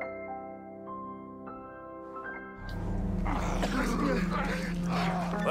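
A dog barks in the World War I video game Valiant Hearts: The Great War. Sustained tonal music plays first, then a loud, dense rumble takes over for the rest of the clip.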